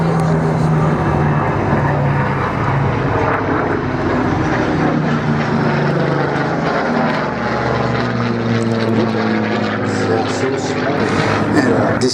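A Messerschmitt Bf 109 with a fuel-injected engine roars past at an airshow, a loud, continuous propeller drone that swells and shifts in pitch as it flies by.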